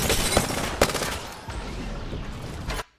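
Rapid bursts of automatic gunfire from Apex Legends, loud and close, with sharp individual shot transients over a sustained rattle that cuts off abruptly at the end.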